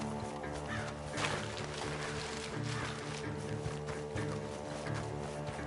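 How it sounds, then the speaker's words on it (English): Crows caw repeatedly in the distance in the Red Dead Redemption 2 video game, over a steady hum of game ambience. "Over there, where the birds are."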